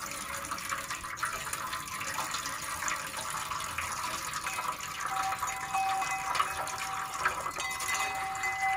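Boiled herbal decoction for cattle pours into a container in a continuous, close-up splashing stream that holds steady throughout, with brief louder gushes and no voices.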